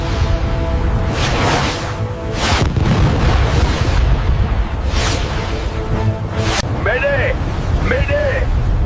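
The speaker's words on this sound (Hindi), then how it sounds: "एंटी सबमरीन रॉकेट एक्टिवेट करो।" Anti-submarine rockets fire from a warship in a naval battle scene, heavy booms and whooshing blasts rolling one after another at high volume, with a voice briefly heard near the end.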